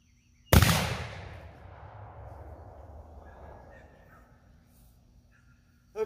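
A single loud, sharp blast from a big-bore rifle firing a 726-grain solid bullet, followed by a long rolling echo that fades over several seconds outdoors.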